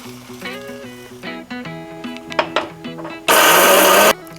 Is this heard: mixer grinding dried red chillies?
yes